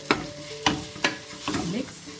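Spoon stirring dry spice powders into a curry of cauliflower and lamb frying in a pan, three sharp scrapes followed by a longer scraping stir over a steady close sizzle, no talking.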